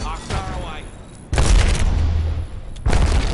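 Loud booming blasts in a first-person shooter video game, heard as two heavy bursts with a rumbling tail, separated by quieter game noise.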